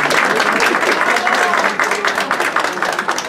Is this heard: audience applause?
yes